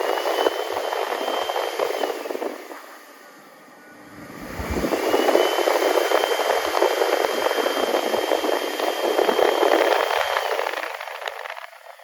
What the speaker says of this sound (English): it's obviously not as fast on the low setting, and I must say that sound really reminded me of a Mitsubishi Jet towel